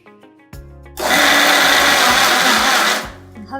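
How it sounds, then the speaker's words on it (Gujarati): A kitchen mixer grinder crushes soaked poha (flattened rice) in its jar. After a few quiet clicks and a low start, the motor roars loudly and steadily for about two seconds, then winds down and stops. "હવે આપણે આ જે પૌવા છે એને મિક્સરમાં ક્રશ કરવાના છે"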